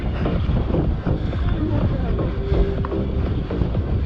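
Headwind blowing hard against the microphone while riding an electric bike on a Crimean route between Ordzhonikidze, Feodosia and Koktebel, a constant loud rushing roar with rumbling buffets and no speech.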